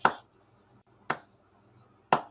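Hands imitate Bigfoot smacking trees with three sharp, loud clapping smacks about a second apart, each crisp and close.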